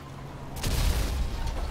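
A sudden explosion in the video game GTA 5 bursts in after a quiet stretch, then rolls on as a loud, sustained low rumble with crackling debris. No one speaks.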